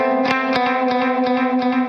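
A clean, bright-toned electric guitar riff from the Guitar Riff Creator app rings out steadily, with sustained harmonic notes and repeated sharp picked attacks, loud and close with no talking.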